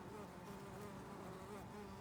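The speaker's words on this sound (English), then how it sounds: "there's a Carpenter Bee, big old fat one." A big, fat carpenter bee hovering near flowers on a deck railing gives a steady, faint, continuous drone heard alone with no voices.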